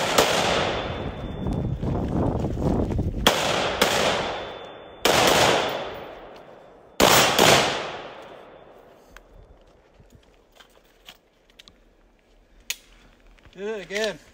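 Loud gunshots ring out outdoors in the Pacific Northwest, four heavy blasts a second or two apart, each trailing a long echoing decay, followed by quieter scattered pops and brief voices near the end.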